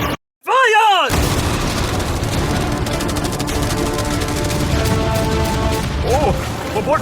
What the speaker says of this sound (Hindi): इन सभी मशीन गन्स के साथ वहाँ पर है पूरे 100 कैनन्स